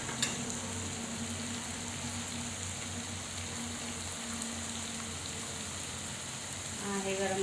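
Masala for chana masala roasts in oil in a pan, giving a soft, continuous sizzle and crackle at low volume, steady throughout with no talking.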